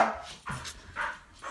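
A dog whimpering and yipping to be let outside, giving several short, high, whiny vocal bursts with brief pauses between them, fairly close and alone without any talk.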